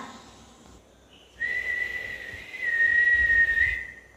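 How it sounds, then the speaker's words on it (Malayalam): A person whistles a clear, sustained tone that holds steady for a couple of seconds at moderate loudness, alone over faint background noise in a staged scene from Basheer's novel Mathilukal. "ആരാ അവിടെ ചൂളമടിക്കുന്നത്?"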